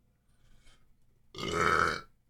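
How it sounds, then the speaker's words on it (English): One loud, close burp, deep and rumbling for about half a second, comes after a faint breathy sound. "You're welcome that I didn't burp right in your ear on the podcast."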